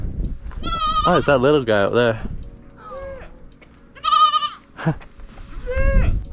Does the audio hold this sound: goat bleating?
yes